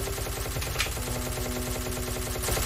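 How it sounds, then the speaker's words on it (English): Rapid automatic gunfire from a Minecraft Bedrock SCP game, a dense, steady stream of fast shots running continuously at close range with no talk. "What are you shooting?"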